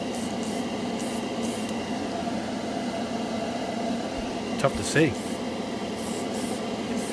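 An airbrush or spray can hisses steadily at close range as Model Master Metalizer paint goes onto a plastic panel, a constant fine rush of air, with someone speaking briefly partway through.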